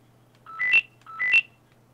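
Telephone ringing with two identical rising electronic trills, each about a third of a second long and evenly spaced, clear and close over a low steady hum.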